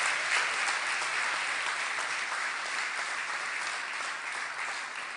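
Loud, dense applause from a conference audience rolls on evenly, a continuous wash of many hands clapping close by without pause.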